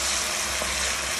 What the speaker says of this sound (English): I'm frying a lot of garlic, minced garlic, in non-stick pan.